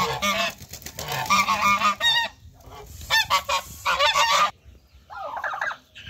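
African geese, a giant breed, honking loudly and close in repeated bursts of harsh, nasal calls, with short pauses between them and no talking.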